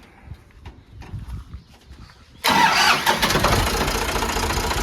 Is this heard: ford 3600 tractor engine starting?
yes